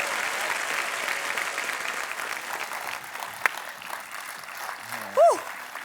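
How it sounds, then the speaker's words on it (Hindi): Studio audience applause on a comedy talk show, a sustained even crowd clapping that carries through, with a short spoken exclamation and a bright squeal near the end. "जोरदार तालियां अनुष्का के लिए"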